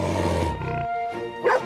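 A dog barks a few times in a cartoon scene, heard over a continuous music score, with one sharper bark near the end.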